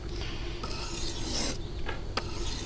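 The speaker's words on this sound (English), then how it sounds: "just very gently stroke that stone so that it doesn't create more scratch marks" A knife blade stroked gently with light pressure across a Fallkniven DC521 sharpening stone, giving a close, steady rasping scrape with a brief sharper click near the end, alone without talk.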